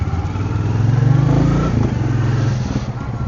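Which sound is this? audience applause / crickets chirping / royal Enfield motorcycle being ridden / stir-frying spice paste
royal Enfield motorcycle being ridden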